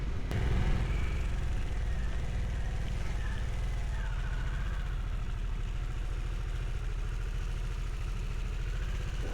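A Harley-Davidson motorcycle ridden along countryside B roads, a steady low engine drone with a faint rise in pitch around the middle, with a voice faintly over the top.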